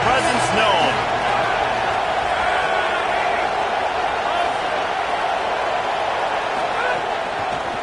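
A large crowd at a football stadium roars in a loud, sustained wall of cheering and shouting, with a few faint whoops and horn-like tones rising out of the din.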